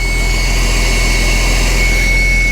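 A Porsche 996 911 engine runs briefly with no coolant, making a steady, loud, close drone with a thin constant whine on top and no voices.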